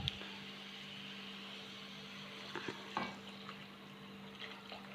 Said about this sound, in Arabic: ومن بعد هكذا نبدا نمرق بالماء يكون سخون